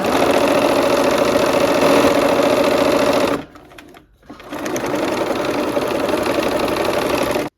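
A sewing machine stitches barn quilt blocks into rows with a loud, rapid, steady whir, pauses briefly for about a second, then runs again at an even pace.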